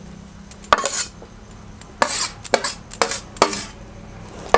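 A stone grinding slab works roasted onion and tomato with ginger and garlic, giving sharp scraping strokes and stone knocks in an uneven rhythm, close and loud with quiet gaps between bursts.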